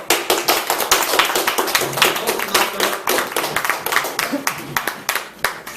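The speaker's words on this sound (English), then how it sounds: "Let's give a warm applause to Christine Garancho." An audience claps for a speaker at a Metro Manila Toastmasters Club meeting, with loud, close, rapid clapping packed into a dense run of sharp hand strikes that lasts the whole stretch.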